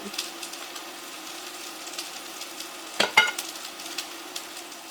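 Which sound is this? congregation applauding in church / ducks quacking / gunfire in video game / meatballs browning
meatballs browning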